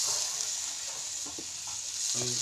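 Pitha rice cakes fry in hot oil in a village kitchen, a loud, continuous close sizzle and crackle with faint clatter underneath.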